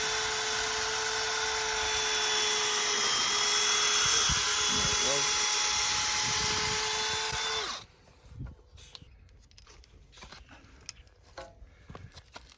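Power drill boring into deck wood, a loud steady whine for about eight seconds that slows as the bit clogs with shavings, then cuts off, leaving quiet clicks, knocks and handling sounds.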